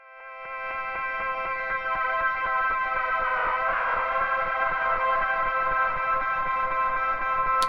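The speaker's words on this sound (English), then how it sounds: "And we can then pass that into, say, a comb filter." Synthesizer tone from Absynth 6, made aggressive with waveshaper distortion and fed through a comb filter, holding a dense, bright sustained chord with a resonant sweep midway, loud and steady with no talk.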